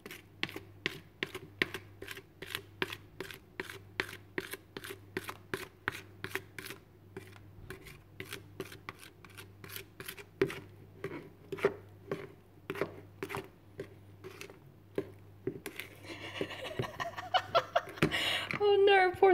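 Cake batter is stirred by hand in a bowl for a locomotive cake, rapid rhythmic scraping and tapping strokes repeating steadily, with a voice speaking over them.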